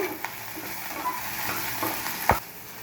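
Onion, garlic and grated coconut being stirred in a hot pan for peanut chutney, a steady soft sizzle with scraping spoon strokes and one sharper clatter near the end.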